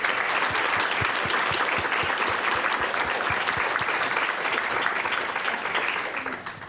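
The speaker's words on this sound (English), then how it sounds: "give a big round of applause to our panelists" Audience at a peace-mediation conference applauding panelists: dense, sustained clapping from a large crowd that holds steady, then begins to fade at the end.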